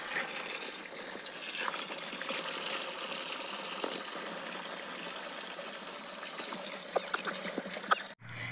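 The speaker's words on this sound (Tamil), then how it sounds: "இந்த பத்து கிலோ சுண்ணாம்பை இந்த பேரலில் போட்டு தண்ணி ஃபில் பண்ணி வச்சுருக்கோம்" Steady trickling and splashing of water running into a barrel holding ten kilos of lime, continuous and fairly soft, with a brief clunk near the end.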